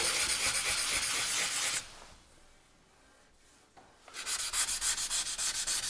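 Sanding on a 1920s Prentiss-Wabers Auto-Cook-Kit No. 4 camp stove, a loud rhythmic scratchy rubbing that stops for about two seconds, then resumes in steady strokes.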